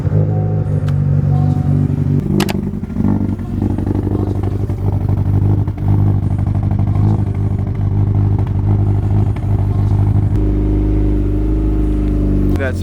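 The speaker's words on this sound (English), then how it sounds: "it's time to do cold start right now" A Honda Civic Type R engine turning over on a cold start and settling into a loud, steady idle with low rumble, a brief clatter near the start, and continuous close-up engine drone throughout.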